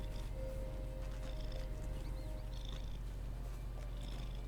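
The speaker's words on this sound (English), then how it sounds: "I was gonna say, I hear purring." A cat purrs in a low, steady, continuous rumble, fairly quiet but constant throughout, with no other clear sounds over it.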